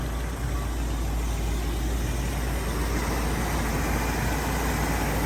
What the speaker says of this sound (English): There you can hear that engine just runs smooth as can be.